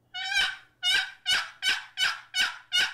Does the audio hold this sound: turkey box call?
yes